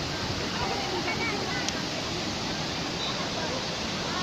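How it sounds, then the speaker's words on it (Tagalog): Tinuyuan Falls waterfall roaring as a steady, broadband rush of falling water, close and constant throughout, with faint voices beneath it. "Mao ni Tinuyuan Falls."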